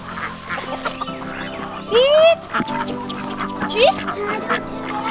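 Poultry calls up close: a couple of rising squawks and clucks stand out over a busy farmyard background, with a few clucks scattered throughout.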